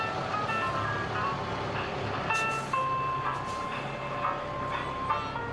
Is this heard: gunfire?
no